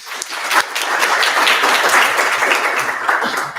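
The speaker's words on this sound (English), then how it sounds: "Round of applause for him." A room of student government senators and attendees claps for a newly elected vice chair, a dense, steady burst of applause that swells quickly and holds fairly loud for several seconds before starting to thin.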